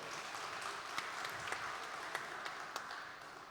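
A crowd at a HDCI Bogor motorcycle club event applauds in a soft, steady spatter of clapping heard from a distance, with a few sharper claps standing out and no talking over it.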